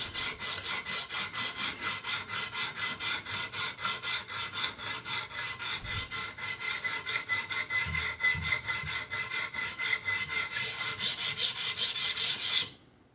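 Knife blade rasping steadily across a sharpening stone on a TSPROF Pioneer sharpener, a fast, even back-and-forth scraping stroke repeated continuously and close up, with no voices.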